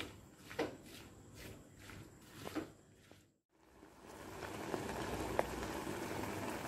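Watermelon pieces simmer in a pot for payasam. A few soft knocks and a brief lull give way to a steady, close bubbling hiss.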